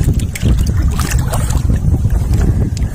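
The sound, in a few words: strong wind on a boat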